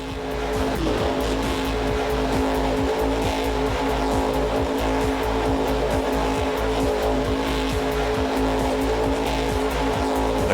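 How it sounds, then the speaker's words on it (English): Engine roar and tire squeal from monster trucks losing traction in Monster Jam Battlegrounds on PS3, a steady loud rumble with repeated skidding bursts that continues throughout. "That car just loses traction the second it fucking lands."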